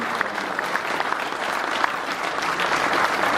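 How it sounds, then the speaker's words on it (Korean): An audience at an international academic conference marking the anniversary of Korea–Russia diplomatic relations applauds to welcome a guest, a dense steady clapping that fills the hall and carries on without a break. "큰 박수로 환영해주십니다"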